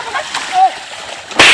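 Water splashed onto a person, heard as a short, loud splash near the end after some faint background sounds, with no speech over it.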